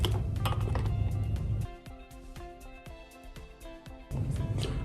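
A plastic hose fitting snaps into a HydroCart Compact water filter, heard as a series of small, sharp plastic clicks and taps close by over a low background hum.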